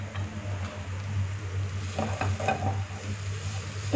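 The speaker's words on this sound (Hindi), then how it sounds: "इसको लगातार चम्मच हिलाते जाएंगे ताकि मैदा जो है वो यकसा भुना जाए।" A spoon stirs Spanish omelette mixture of flour, chilli flakes, salt and white and black pepper as it fries in a pan, giving soft scraping strokes over a steady low sizzle and hum.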